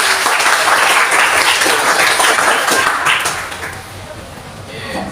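A classroom group of teachers and participants applauds group 5 after its coaching presentation, dense steady clapping filling most of the clip before thinning out toward the end.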